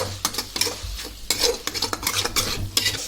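A spoon scrapes and clatters steadily around a pan as chicken liver is stirred with garam masala, chicken masala and turmeric, with a light sizzle from the frying underneath.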